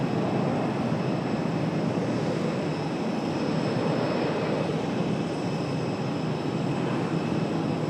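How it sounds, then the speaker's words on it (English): An Embraer E-175 United Express airliner comes in to land at Raleigh-Durham airport, its jet roar a steady, broad, moderately loud rush that holds unchanged throughout with no voices. "Got an E-175 making an appearance, coming in."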